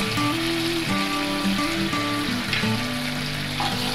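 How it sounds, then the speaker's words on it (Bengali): Chicken and egg noodles frying in a pan with soy sauce and sugar just added, a loud, dense sizzle that runs continuously over a low steady hum, with no voice. "এরপরে একটু সয়া সস দিচ্ছি এক চা চামচ, সামান্য একটু চিনি দিচ্ছি"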